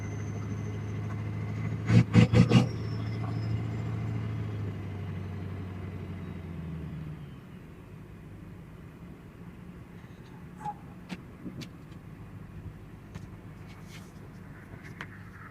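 An old truck with no first or second gear creeps around a yard in 4-low, its engine a low steady rumble that drops quieter partway through, with a burst of louder knocks early on and a few faint clicks later.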